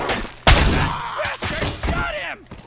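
A few heavy gunshot-like blasts in RoboCop: Rogue City, a sharp loud impact followed by further thumps and shots, with a groaning voice and some speech underneath.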